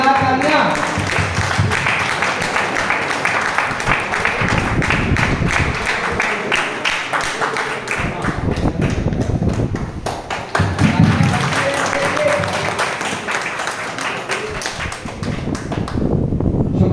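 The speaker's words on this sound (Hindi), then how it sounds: "प्लीज कलीम साहब के लिए जोरदार तालियां" Sustained audience applause for Kalim Sahab at a meeting in Banda, a dense steady clapping texture running throughout, with some voices mixed in.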